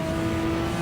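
Pagani Zonda R race car engine in a VR racing game, a steady high-pitched droning hum at constant revs, loud and close, no voices.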